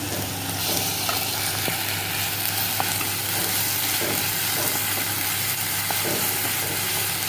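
Ginger-garlic paste frying with browned onion in a pan, a steady close sizzle with scattered stirring clinks throughout, no voices.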